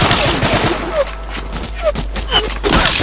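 Loud sniper rifle shots ring out in a fast-paced video game, several sharp cracks spread across a noisy, dense background of game sounds.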